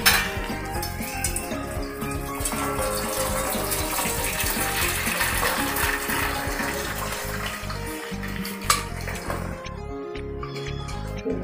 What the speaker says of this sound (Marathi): पाणी काढून घेऊ।